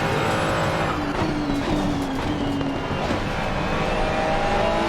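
A GT World Challenge race car in Assetto Corsa Competizione drones loud and steady, its engine tone rising and falling in pitch with a whining transmission under it, continuous with no pauses.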